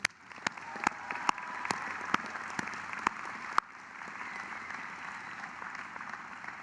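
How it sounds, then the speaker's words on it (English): Applause from a large crowd at a university commencement ceremony, a steady rush of clapping heard from a distance with a few sharper claps standing out, then fading lower. "Let's give them a round of applause."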